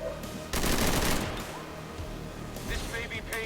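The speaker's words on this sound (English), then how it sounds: "Lay down suppressing fire." Suppressing gunfire in XCOM 2 erupts as a dense, loud burst of rapid shots for under a second, then trails into a lingering rumble and clatter, with game effects and a voice around it.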